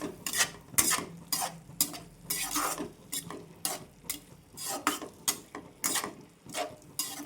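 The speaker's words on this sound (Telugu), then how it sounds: "ఇప్పుడు మనము మసాలంతా ఫ్రై చేద్దాం రొయ్యకి మసాలా పట్టే విధంగా" Prawns coated in masala, with coriander and cumin powder, are stirred in a pan, the spoon scraping in quick repeated strokes over a constant sizzle, close up and with no voices.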